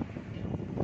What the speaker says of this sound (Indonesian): Angin besar